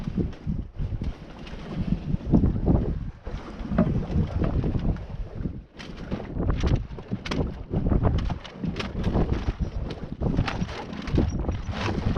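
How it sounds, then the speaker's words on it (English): On a Contessa 26 sailboat out at sea, the mainsail is dropped to work on the boom, with rustling sail cloth and gear clatter amid loud, steady wind and water noise, and no voices. "I'm going to drop the mainsail down so that we can work on the boom."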